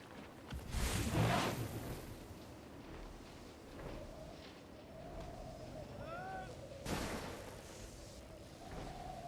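Two sharp, booming gunshots from a rifle in Guild Wars 2: End of Dragons ring out several seconds apart, with a low rumble of game ambience between them.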